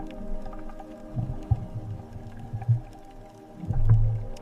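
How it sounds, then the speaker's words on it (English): Deep, drawn-out sperm whale calls moan and pulse through the dark, icy ocean depths, several swelling tones rising and fading over a low underwater rumble, with a stronger call near the end. "The sperm whales swim in the dark icy depths."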